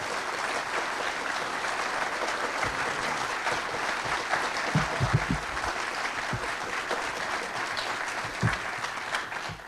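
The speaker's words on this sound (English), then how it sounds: "if you will please give a warm round of applause to Mark Phillips and Kathy O'Brien" Warm audience applause welcoming two speakers onto the stage at a corporate speech event, sustained broad clapping with a few louder individual claps standing out toward the middle and end.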